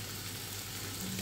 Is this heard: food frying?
yes